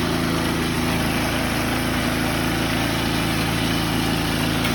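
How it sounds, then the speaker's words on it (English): Toro snowblower engine running steadily with the choke on, a loud, close, continuous small-engine drone with an even, buzzing pulse throughout and no voices. "All right, it's running. Still got the choke on, but yeah, let's see if it'll run."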